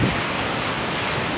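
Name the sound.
wind blowing at the Santa Cruz shore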